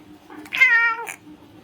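A single cat meow, clear and close in a quiet room: one drawn-out, mid-pitched cry lasting about half a second, followed by a brief softer chirp.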